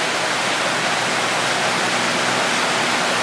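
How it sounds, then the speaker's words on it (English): Water rushes steadily down a channel beneath the Petit Bot tea rooms in Guernsey, a loud, continuous broadband roar like a small waterfall, close by with no voices. "where all the water comes down just through the Petit Bot tea rooms, right underneath them"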